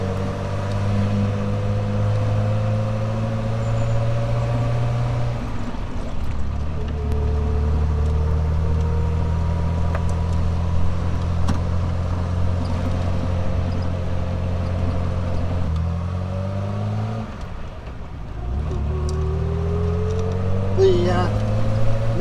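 A 1967 Triumph Vitesse engine pulls along in second gear, a steady droning hum whose pitch rises and falls through gear changes, heard from inside the car with someone talking over it.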